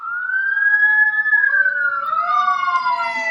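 A fire engine siren from a nearby fire station wails loud and close, one long rising-and-falling tone with a second overlapping tone joining midway, heard alone without talk.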